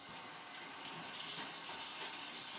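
Steady rush of tap water running over apples being rinsed in a kitchen sink, a continuous close splashing hiss with no voices.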